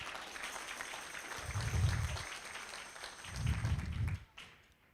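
Applause for $100 donors at a community fundraiser and 10th birthday celebration swells twice in short bursts, a few seconds apart, rising over a steady room murmur before fading out.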